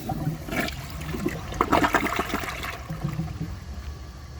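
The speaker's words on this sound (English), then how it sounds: "I will show you guys a flush" A 2004 Crane Sureflush toilet flushes with a rushing swirl of water that swells in the middle and then drains to a steady trickle, alone and fairly close.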